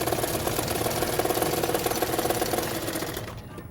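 A sewing machine stitches piping onto a 32-size double katori blouse, a loud, fast, even mechanical rattle running continuously up close before winding down at the end.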